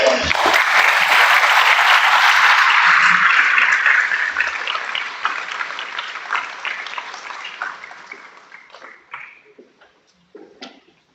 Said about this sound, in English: So let's give everybody this one more round of applause.